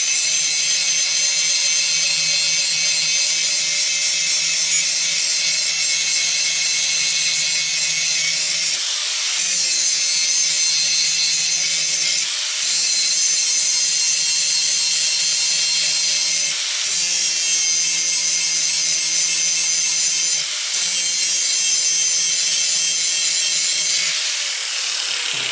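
A power grinder works wooden bevel siding held in a sawmill jig, a loud, steady, harsh abrasive whine that runs continuously for a long stretch, broken only by a few brief dips.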